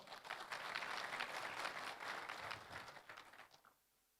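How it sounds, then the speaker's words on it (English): Summit audience at a keynote applauds the Sarawak government members, a full wash of clapping that swells, holds, then tapers away into quiet near the end. "can we give them a round of applause?"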